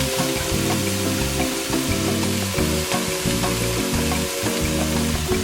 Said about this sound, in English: Now the key to stir fry is you gotta stir. You gotta, keep that stuff moving around.